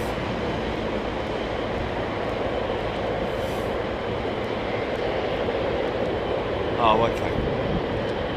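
Jet airliner engines roar steadily at Heathrow airport as a British Airways jet performs a go-around, a continuous broad rumble filling the background under brief speech.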